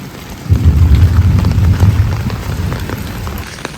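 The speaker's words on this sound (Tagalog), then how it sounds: "malakas po yung ulan" Heavy rain pours down in a steady, loud wash with a deep rumbling undertone, no voices present.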